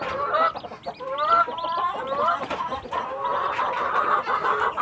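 Newly hatched chicks in a backyard brooder peeping continuously, a dense chorus of high chirps, close and steady, with no talking.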